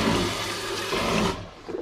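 An electric marine toilet on a boat flushes with fresh water, giving a loud rushing, gurgling swirl of water with a pump-like roar that cuts off abruptly near the end.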